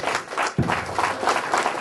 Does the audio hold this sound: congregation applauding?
yes